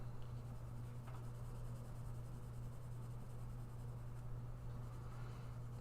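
An ink pen drawing on paper produces a faint, steady scratching and rubbing, close and continuous over a low background hum.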